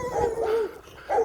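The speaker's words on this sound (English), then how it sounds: "We got some dogs here." Dogs bark from outdoors in Hilo, Hawaii, during a walk, with two or three loud bursts separated by short pauses and no talking.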